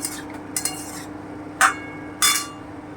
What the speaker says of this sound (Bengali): আমি এবারে লঙ্কা বাটাটা দিয়ে দিচ্ছি আর একটু নেড়ে নেব